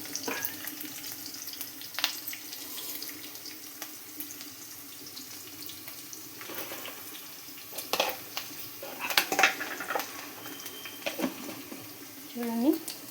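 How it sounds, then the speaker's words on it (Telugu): Onions softening in a frying pan on the stove for a Telugu eggplant and tomato curry, a low steady sizzle running throughout with a few clinks of utensils and brief louder bursts near the end. "ఇవి ఆనియన్స్ కొంచెం మగ్గాలండి."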